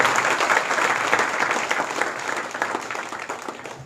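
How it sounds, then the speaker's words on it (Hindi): A crowd clapping at the opening ceremony of a concrete village road, many hands in a steady, dense outdoor patter that continues throughout, with a faint voice underneath. "ताली मार के दसे नवाब साहब का पता चलना चाहिए"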